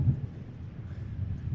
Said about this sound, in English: I actually wasn't expecting it to be this windy.